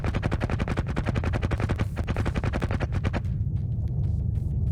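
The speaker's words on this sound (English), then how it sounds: "our guns are automatically firing" Automatic guns in the space game In The Black fire in a rapid, continuous stream of sharp bursts, loud and close, before settling into a rougher, lower rumble.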